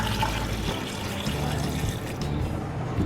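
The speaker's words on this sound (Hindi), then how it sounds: "इसमें हम ऐड करेंगे तकरीबन 2 गिलास के करीब पानी ऐड करेंगे।" About two glasses of water pour steadily into a cooking pot holding meat with salt, turmeric and coriander powder for kachnar gosht, a continuous close splashing rush lasting throughout.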